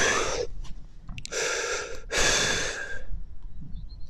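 A storyteller at a campfire imitates a tired cheetah's heavy breathing with a few loud, wheezing gasps in and out, alone without speech.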